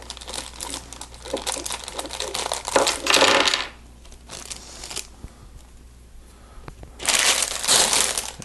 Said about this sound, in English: So we'll go ahead and start opening all these bags.